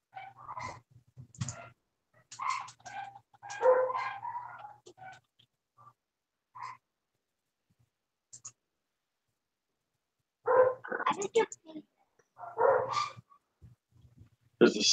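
Dogs bark in repeated bursts, fairly distant, in two clusters separated by a quiet stretch, with faint talk mixed in.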